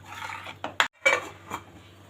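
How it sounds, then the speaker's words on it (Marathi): Jowar masala khichdi stirred in a pot, a few sharp spoon clinks and scrapes against the metal rim, close and quiet with short gaps between strokes and no talking. "आता ह्याला आपण छान मिक्स करून बॉईल येऊ देऊया."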